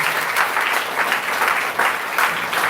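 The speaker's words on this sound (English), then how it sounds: "Give a round of applause for second and three." Steady, loud applause from a large audience, dense clapping filling the whole stretch without pause.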